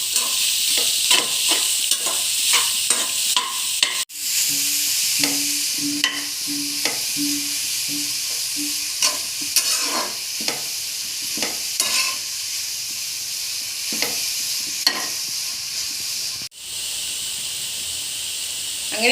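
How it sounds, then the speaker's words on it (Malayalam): Two large onions sautéing in a pan for pepper chicken gravy: a loud, continuous sizzle broken by regular spatula scrapes and stirs, close up, with a couple of sharp knocks and no speech. "ഇനി ഇതിലേക്ക് 2 വലിയ സവാളയും ഇട്ട് കൊടുക്കാം. ഇനി ഇത് നന്നായി വഴന്നു വരുന്നത് വരെ വെയിറ്റ് ചെയ്യാം."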